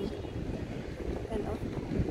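Gusty outdoor wind in Florence buffets the microphone with a steady low rumble throughout, strong enough to lift a hat, with no clear talk over it.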